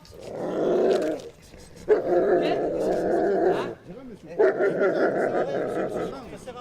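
A police canine-unit dog barks and growls in a few long bursts, loud and close, with short pauses between them.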